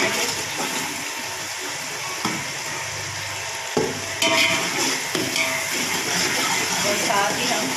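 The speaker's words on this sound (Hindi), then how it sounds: "इसमें हम लहसुन डालेंगे। थोड़ा सा फ्राई करेंगे।" Garlic sizzles steadily in a hot pan, a continuous loud frying hiss broken by a few clacks of a spoon stirring, while a voice talks over the cooking.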